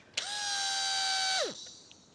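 A BMW motorcycle fuel pump primes and builds pressure, giving a steady, high electric whine that starts abruptly, holds for over a second, then winds down in pitch and fades, close and alone.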